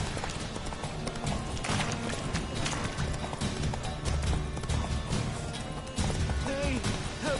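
Hooves of Roach, a horse in a video game, clip-clopping in a steady trotting rhythm against game ambience and music, with a brief whinny-like cry near the end and occasional voice in the background.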